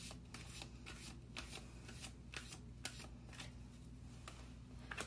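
Moonology oracle cards are shuffled by hand, with repeated soft riffling flicks in an uneven rhythm, close and fairly quiet against low room noise.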